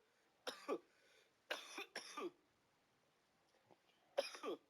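Four separate harsh coughs, close and fairly loud, the middle two in quick succession, with quiet pauses between them.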